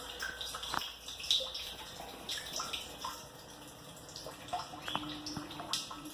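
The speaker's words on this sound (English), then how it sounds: "it's filling up with filtered RODI water again, ready for the next one." Filtered RODI water trickles and splashes into an aquarium through a float valve, a steady running-water wash with scattered drips and small splashes, moderately quiet and heard alone.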